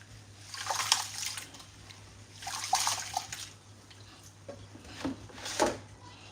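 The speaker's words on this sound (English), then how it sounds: "So now I'm just washing my rice. Just like to give it a little bit of scrubbing." Rice being washed and scrubbed by hand in water for jollof rice, with three separate bursts of swishing and sloshing divided by quiet pauses, close and fairly soft.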